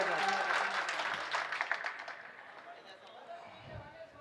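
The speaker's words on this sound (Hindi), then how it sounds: "एक बार जोरदार तालियां बजाकर बताइए कि आप लोग सुनना चाहते हैं" Audience at a mushaira poetry gathering in Hasanpur bursts into loud clapping and applause that gradually fades over a few seconds, with some crowd noise underneath.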